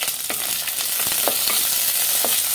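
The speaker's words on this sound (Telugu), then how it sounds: "ఒక్కసారి కలుపుకుందాము" Onions and green chillies sizzle steadily in a pan for a mixed vegetable pulusu, with a spatula scraping through them in several clear, close strokes.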